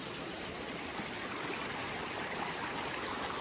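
Cox Hollow Waterfall at Governor Dodge State Park pours in a steady, dense rush of water that holds constant from start to finish, close and fairly loud, with no voices.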